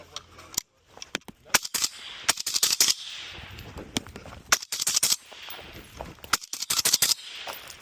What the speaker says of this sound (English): Now time for some Galil time with the RTS30.